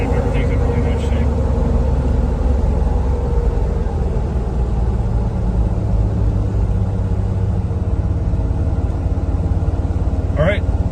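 A 1989 Range Rover Classic cruising smoothly, a steady low engine and road rumble running loud and continuous throughout, with a faint voice briefly heard near the start and a short squeak near the end.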